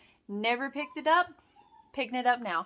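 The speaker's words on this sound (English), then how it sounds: "I'm sorry if you hear my puppies in the background." Puppies whimper and yip faintly in the background of a home, partly masked by a person talking close by, with one thin drawn-out whine rising briefly in a pause between phrases.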